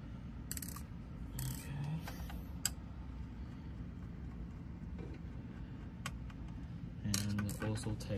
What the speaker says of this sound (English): please remove those four small screws from the case